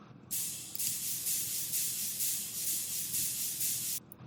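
A ride cymbal in a progressive house drop strikes on every beat alongside the kick, a steady run of bright, hissy hits pulsing evenly for several seconds with no voices.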